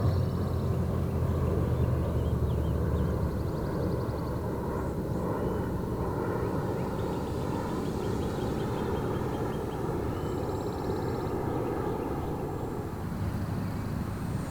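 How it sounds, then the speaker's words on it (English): An H-King Reno Aces FG-1 Corsair "Lucky Gallon", a 990 mm EPO electric RC model plane, roars steadily at full throttle through a vertical roll, a continuous loud motor and propeller whine with slight shifts in pitch. "That's full throttle with a vertical roll."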